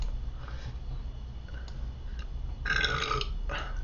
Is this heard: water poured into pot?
no